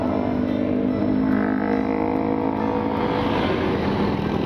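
A Yamaha Aerox automatic scooter engine drones steadily while riding, a continuous close hum with faint rising pitch and wind rush, no one speaking.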